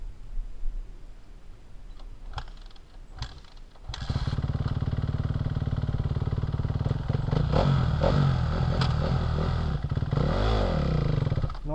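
A KTM/KX-style dirt bike engine with a troublesome clutch clatters after a few sharp clicks, then roars to life and revs repeatedly up and down, loud and close.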